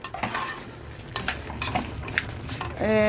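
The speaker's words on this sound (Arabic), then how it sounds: "اول ما يتحمروا ان شاء الله كبلهم عليهم الميه واحط لهم الماجي بتاعهم والملح" Lisan asfour orzo pasta frying in a pot, stirred with a metal spoon that scrapes and clinks against the sides in quick irregular strokes over a soft sizzle.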